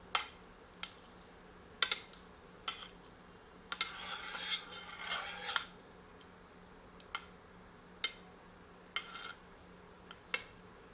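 Whole dry spices fry in hot mustard oil for a goat curry, with a low sizzle swelling briefly midway under a steady run of sharp spoon-on-pan clicks and taps every second or so; no talking.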